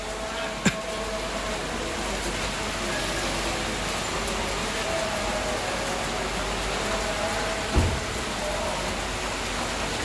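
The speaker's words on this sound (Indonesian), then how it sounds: "Hujan." Rain falls steadily in Batam as a broad, even hiss that fills the whole stretch, with a couple of brief knocks standing out and no talk.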